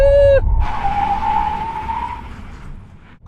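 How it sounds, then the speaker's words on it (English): An Audi performance car makes a full emergency stop from 160 km/h, tyres letting out a loud, sustained screech that slowly fades as the car slows, following a brief engine tone. "Now we can have a brake test from 160 kilometers an hour."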